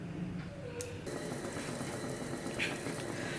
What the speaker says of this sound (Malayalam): വെള്ളം നന്നായിട്ട് തിളച്ച് വന്നിട്ടുണ്ട്.